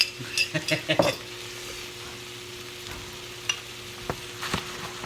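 Quinoa simmers in broth in a pot and is stirred, with a quick series of spoon clinks and scrapes at the start, a soft simmering hiss, then a few scattered taps later on.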